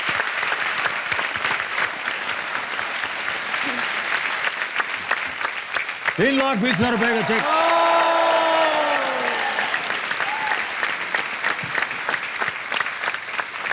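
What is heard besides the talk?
studio audience applause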